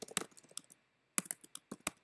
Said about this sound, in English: I'm going to type read the passage.